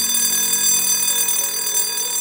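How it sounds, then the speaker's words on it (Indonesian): A factory emergency alarm sounds as a steady, continuous electronic tone with a bright ringing edge, loud and unbroken for the whole stretch with no voices. "Keadaan darurat ditandai dengan bunyi alarm."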